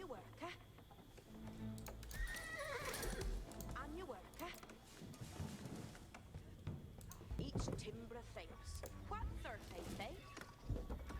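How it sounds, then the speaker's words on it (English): Horses in the Age of Empires IV strategy game whinny and clop their hooves, moderately loud and mixed in with game music and effects, while a person talks over much of it. "Horses."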